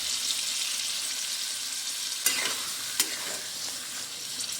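Ridge gourd and paneer with poppy seed paste are stirred in a hot pan, giving a constant close sizzle with a couple of sharper scrapes of the spatula and no talk.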